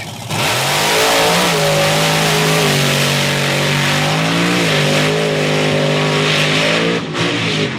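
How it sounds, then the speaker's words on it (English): Two monster trucks race side by side over a row of cars at a Thunder on the Beach beach event in Wildwood, New Jersey. Loud, sustained engine roar with rising and falling revs and no break. "Great side-by-side monster truck race."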